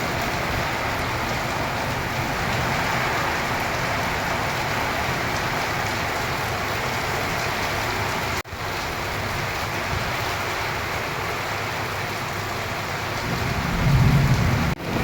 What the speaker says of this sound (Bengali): কত সুন্দর বৃষ্টি পড়তেছে দেখতেই পাচ্ছেন।